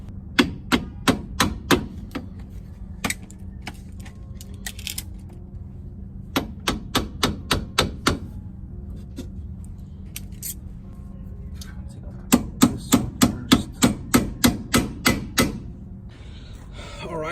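A hammer hits a bent metal brake dust shield on a Honda CRX during a rear drum-to-caliper conversion teardown. Bursts of rapid, sharp metallic blows come close and loud, split by short pauses, with faint background noise between the bursts.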